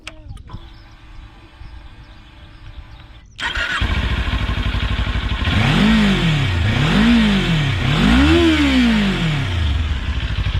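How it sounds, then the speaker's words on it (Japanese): A Kawasaki Ninja 400 400cc sport motorcycle engine cranks and catches, settles into a steady idle, then is revved three times in sharp rising-and-falling bursts; the sound is slightly muffled. "それではエンジンつけていきます。"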